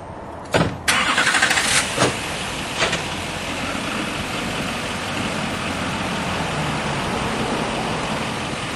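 A forklift wagon trailer's engine sounds a few sharp knocks and revs at the start as it lifts, then settles into a steady, moderately loud running drone as it drives away.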